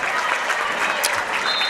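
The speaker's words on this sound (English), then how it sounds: "Wiley Jones and Keegan Kemp get a big round of applause from the Thompsonville faithful" Thompsonville fans fill a high school basketball gym with a big, sustained burst of applause during a boys Class S semi-final game, dense and steady throughout.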